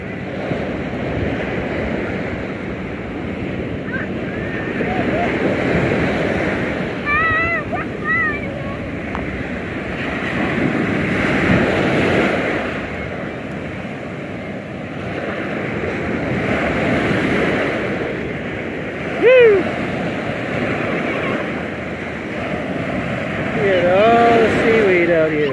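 Ocean surf and wind at Hollywood Beach, Florida, with waves washing in slow rolling swells and gusting wind buffeting the microphone, while people talk in the background.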